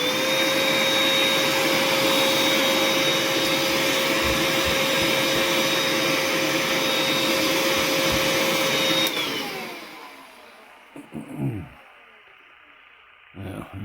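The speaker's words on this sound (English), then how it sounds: "Hoover." Hoover vacuum cleaner running over a Bassett-Lowke model locomotive, a loud steady whining roar for about nine seconds that then cuts off, followed by a few quiet clicks and handling sounds.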